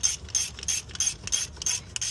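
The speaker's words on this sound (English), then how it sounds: "So just hand tighten it first." A hand ratchet tightens bolts on a junkyard BMW engine with quick, rhythmic clicking strokes. The bursts are crisp and close, separated by short pauses, and no voices are heard.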